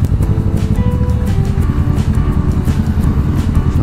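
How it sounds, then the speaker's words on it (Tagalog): Riding a Ninja 650 motorcycle through heavy traffic on Roxas Boulevard, with a loud continuous engine drone and road rumble mixed with rushing wind noise, steady throughout. "Traffic dito ngayon sa Ross Boulevard kasi may ginagawa rito yung LRT yata."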